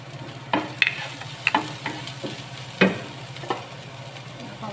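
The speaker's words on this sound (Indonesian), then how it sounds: "kita masukkan bawang putih ya teman-teman." Garlic fries in hot oil in a pan with a steady low sizzle, while a utensil stirs it in irregular scraping clinks, close up and with no talk over it.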